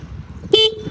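A Suzuki Access 125 scooter horn gives one short, loud, close toot lasting about a tenth of a second.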